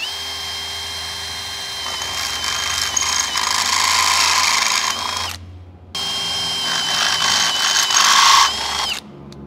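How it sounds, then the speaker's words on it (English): A power drill with a 9.5 mm bit bores into the A-pillar of a next-gen Ford Raptor, its loud whining motor running steadily in two long bursts separated by a brief pause. "When you're drilling these, make sure you do brace your hands and control the drill."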